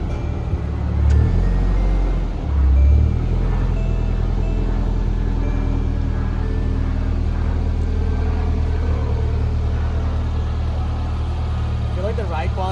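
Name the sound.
Nissan 240SX car being driven out after coilover install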